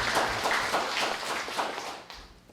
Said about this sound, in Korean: 감사하면 박수를 쳐줘야죠